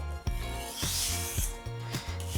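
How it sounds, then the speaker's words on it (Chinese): A beef knife is sharpened on a whetstone with full-length strokes. Steady, continuous rasping scrapes sound close up, with regular pulses about every half second as the blade is pushed back and forth. "我会改成全段式打磨"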